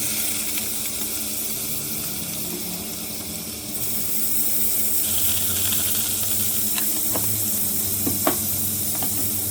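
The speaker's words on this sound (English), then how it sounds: "I'm going to add some butter." Butter sizzling in a pan while salmon is prepared, a steady close crackle with soft stirring and clinks of utensils, growing a little louder partway through.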